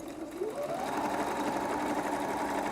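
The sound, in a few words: sewing machine stitching a bag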